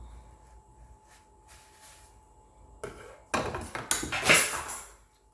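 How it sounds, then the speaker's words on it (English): A pizza with a bread roll edge is set down onto a metal pizza tray, a couple of loud clattering metallic knocks and scrapes near the end after a quiet stretch. "so now I've put it on the pizza tray"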